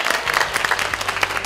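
Audience applause at a Korean political talk show, a dense, steady wash of many hands clapping together, close and fairly loud throughout, with no speech over it.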